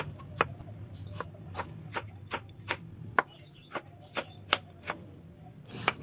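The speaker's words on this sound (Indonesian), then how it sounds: "Kemudian kita iris-iris tomat seperti ini." A knife slices green tomatoes on a cutting board with a dozen crisp, evenly spaced chops, each a short sharp tap, close and clear over a quiet room with no talk.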